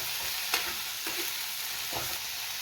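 Onion and capsicum fry in a little oil with a steady hissing sizzle, broken by a few soft scraping stirs of a spoon in the pan. No voices.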